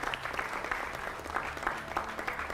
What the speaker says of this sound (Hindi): जोरदार तालियों से उनका भी स्वागत कीजिए